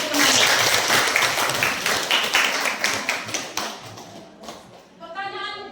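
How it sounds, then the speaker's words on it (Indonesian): Schoolchildren clapping for their classmates in a classroom, a loud close burst that fades over several seconds before a voice speaks at the end. "tepuk tangan dulu untuk teman-teman"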